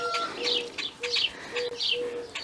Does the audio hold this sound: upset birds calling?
yes